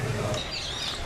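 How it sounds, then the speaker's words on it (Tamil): A bird calls with a few quick high chirps near a temple path outdoors, brief and moderately close over low rumbling background noise. "ஆச்சரியமான பறவையை பார்க்கிறோம்."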